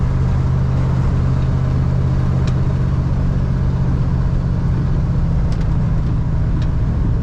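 A 1978 Ford F250 Explorer Ranger pickup engine pulls steadily under throttle while driving on winding S-curves, a loud continuous low rumble with a droning hum filling the whole stretch, no talk over it.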